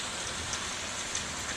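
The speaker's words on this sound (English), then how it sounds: "She's right. It is hailing." Hail and rain fall steadily during a thunderstorm, a dense, even patter with a couple of sharper pellet hits, close and alone.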